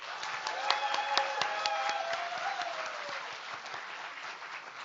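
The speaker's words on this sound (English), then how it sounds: "Let's give the speakers and the panelists a big warm applause." An audience at a youth and culture forum applauds speakers and panelists, with distinct individual claps over a steady wash of clapping, louder at first and gradually easing, and a faint voice or tone briefly sounding beneath.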